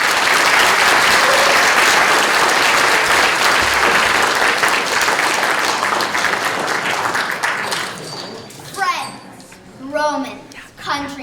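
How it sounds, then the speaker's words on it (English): A theater audience applauds before a school-style staging of Julius Caesar, with loud, dense clapping for about eight seconds that then thins out while children's voices chatter and talk over the fading claps. "Okay, let's clap for them."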